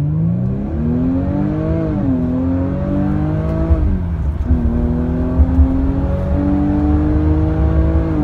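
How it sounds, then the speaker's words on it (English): A supercharged 3-liter V6 in a 2017 Jaguar F-Pace R-Sport crossover drones steadily and loud, its pitch climbing and dipping through gear shifts with an 8-speed transmission, heard alone without talk. "this model is powered by a 3-liter supercharged V6"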